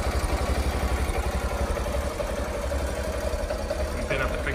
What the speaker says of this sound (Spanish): Ahora se oye mucho mejor la moto